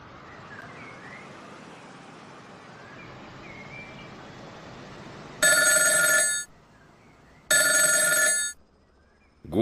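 Telephone in an Arma CWA cutscene ringing twice, loud electric bell bursts of about a second each, separated by a short pause, following a stretch of quiet background ambience.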